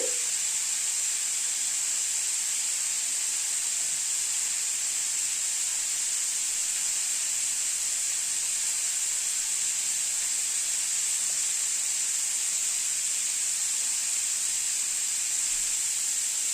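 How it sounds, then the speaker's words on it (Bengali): Cauliflower and potato frying in a pan, with a steady soft hiss and sizzle throughout, fairly quiet and even, with no talking. "ফুলকপি আলুটা অনেকটাই ভাজা হয়ে এসছে।"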